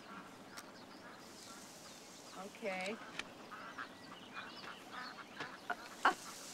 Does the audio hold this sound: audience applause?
no